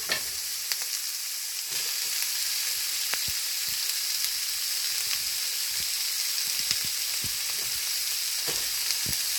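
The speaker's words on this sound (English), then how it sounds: "I'm also now going to add my onions in my pan" Onions frying in a hot pan for tacos, a loud continuous sizzle with scattered pops and scrapes of stirring throughout.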